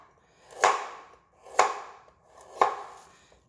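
Three crisp knife chops through a carrot on a cutting board, cutting diagonal slices, evenly spaced about a second apart, close and alone.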